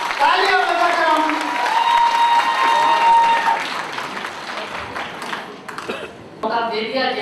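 An audience at a Hindi comic poetry gathering claps in honor of a woman guest, broad applause running under a voice that talks over it, thinning briefly near the end before a final burst.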